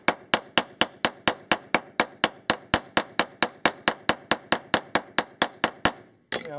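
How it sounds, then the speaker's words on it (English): Steady, evenly spaced hammer blows ring on metal being flared out, about twenty-five sharp strikes in a row, close and loud, ending with a brief clatter. "hammer it a bit to make sure that's nice and flared out"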